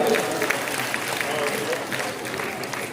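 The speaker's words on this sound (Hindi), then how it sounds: "तालियां बजा करके स्वागत करेंगे, जोरदार तालियां" A crowd at a public gathering claps loudly to welcome a guest, a dense and steady applause with some voices mixed in underneath.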